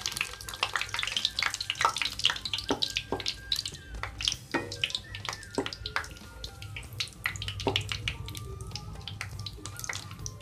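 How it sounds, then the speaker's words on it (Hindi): Five or six red chilies fry in hot mustard oil in a wok, crackling and popping steadily in sharp, irregular bursts over a low, constant sizzle, close and fairly loud with no talking. "इसमें मैं 5-6 रेड चिली डालूंगी और इसे गोल्डन ब्राउन कर लूंगी"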